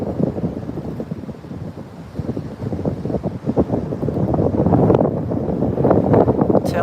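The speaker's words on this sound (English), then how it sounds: "that wind's starting to kick now" Gusty coastal wind buffets the microphone in loud, irregular rumbling surges that build stronger toward the end, with possible surf in the background and no talking.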